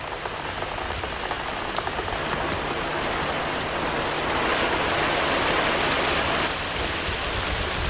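Rain pours down on a house in Uganda and leaks inside, a loud, dense, continuous patter and splash of water with no pauses or voices.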